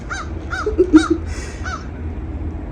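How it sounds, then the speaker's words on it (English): A crow caws several times in a row at moderate distance on a snowy winter morning by the water, its harsh calls evenly spaced over a low steady background hum. "And there goes a crow."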